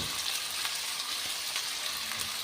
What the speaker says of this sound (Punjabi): ਲਗਾਤਾਰ ਇਹਨਾਂ ਨੂੰ ਹਿਲਾਵਾਂਗੇ ਤੇ ਲਾਈਟ ਬਰਾਉਨ ਜੇ ਹੁਣ ਤੱਕ ਪਕਾ ਲਾਂਗੇ ਇਹਨਾਂ ਨੂੰ